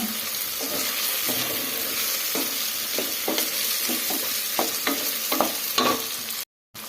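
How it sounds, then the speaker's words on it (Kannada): Moong dal (split yellow lentils) frying and being stirred in a pan, a steady broadband sizzle with repeated scraping strokes of a spoon, close and continuous, cutting out briefly near the end. "ಈಗ ಈ ಹೆಸರುಬೇಳೆ ಹಸಿ ವಾಸನೆ ಹೋಗೋವರೆಗೂ ಫ್ರೈ ಮಾಡ್ಕೊಂಡಿದ್ದೀವಲ್ಲ"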